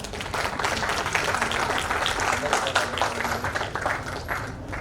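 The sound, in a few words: audience applause welcoming the chair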